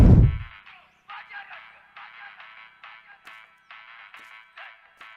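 A mobile phone left behind rings with a repeating electronic melody, steady pulsing tones in regular bursts after an opening thump, heard fairly close with no talking over it.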